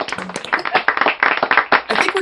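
Zoom-style online honors convocation for a school of education, with scattered clapping from unmuted attendees mixed with overlapping voices and chatter, uneven and close-miked rather than a full hall ovation.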